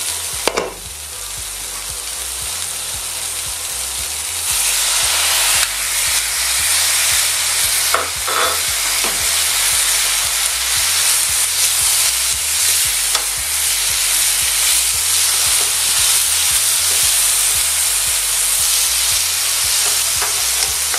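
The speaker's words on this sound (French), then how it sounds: "On attend que l'alcool arrête de brûler." Duck legs sizzle and fry steadily in a pan while alcohol flambés and burns off before wine, aromatics and poultry stock go in, a dense, continuous crackling hiss that holds loud and close throughout, with no talking.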